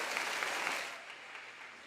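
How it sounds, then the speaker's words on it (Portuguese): A church congregation at a family worship service claps for a pastor, a dense burst of applause that fades after about a second into scattered lighter clapping. "Uma salva de palmas aí"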